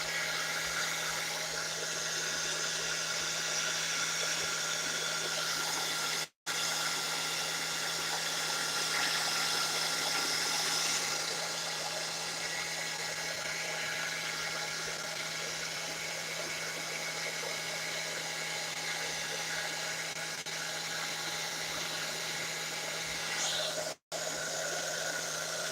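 A hair dryer blows steadily at close range over an ink print on a Gelli plate, a constant even whoosh running without pause apart from two brief cutoffs.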